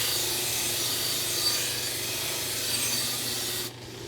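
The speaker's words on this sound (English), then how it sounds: "He's working the wire wheel." Wire wheel grinding steadily on an 8 inch Bay State draw knife, a continuous close abrasive whir that cuts off abruptly near the end, with no talking.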